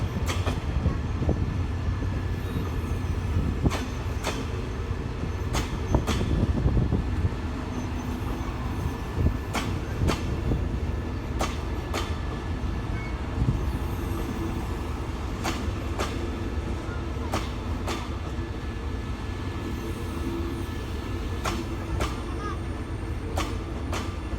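The Uttrawithi No. 9 special express train from Bangkok to Chiang Mai, heard from on board as it leaves Hua Lamphong toward Samsen station: a steady rolling rumble broken by repeated sharp clicks from the rail joints.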